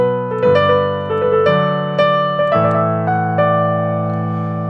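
A simple melody played on a keyboard, loud and close, with evenly spaced plucky synth chords stepping through a short repeating phrase and no voices over it.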